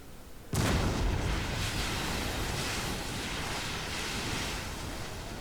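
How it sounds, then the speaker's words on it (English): A sudden loud blast opens a barrage of rockets and cannons in Empire Total War, then a long roaring, rushing wash of gunfire fades slowly across the battlefield. "The rocket's firing, drowning out one of the guns firing."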